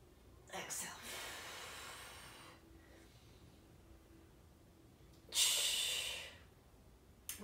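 Heavy breathing during a core workout, with two distinct breaths, one early and a louder, sharper exhale later, each a drawn-out hissing rush of air heard up close.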